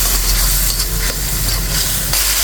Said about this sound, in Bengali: এখন একটু নেড়ে চেড়ে কষিয়ে নিচ্ছি।